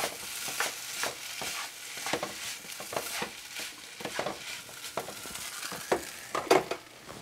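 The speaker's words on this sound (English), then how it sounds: "I'm going to just lift this up and stir that just a little bit here" A granola bar mixture with vanilla stirred in a pot over heat, soft scraping and stirring strokes repeating steadily with a faint sizzle underneath, close and fairly quiet with no talk.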